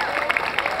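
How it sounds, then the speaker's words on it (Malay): Brief applause from an audience at a national youth gathering, dense clapping mixed with some crowd noise, steady and moderately loud. "memberikan tepukan gemuruh pada mereka semua"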